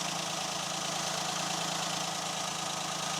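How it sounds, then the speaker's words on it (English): Citroen C1 engine idling with an exhaust blow at the front clamp, giving a steady close rumble with a fast, even puffing pulse throughout and no talking. "Oh, I think there's a blow from the front clamp."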